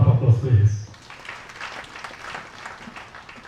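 Conference audience applauds in a steady, diffuse wash of clapping at moderate volume, following a brief voice at the very start.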